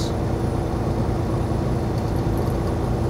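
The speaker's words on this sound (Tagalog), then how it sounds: "May part ng truck mo, maririnig mo, humuhuni yung hangin." Steady roar of wind and road noise around a truck cruising at highway speed, around 90 kph in gusty conditions, continuous and fairly loud with a faint high whistle, no talking.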